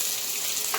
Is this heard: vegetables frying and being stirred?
yes